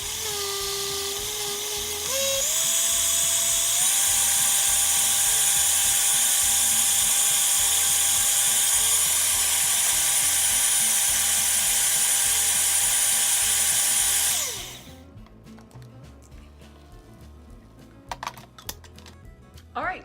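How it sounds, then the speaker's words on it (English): A countertop blender whirs loudly and steadily through bulletproof coffee for about fourteen seconds, its pitch rising as it speeds up, then it winds down abruptly and leaves quiet clicks and faint handling noise. "I'm gonna go ahead and blend this up"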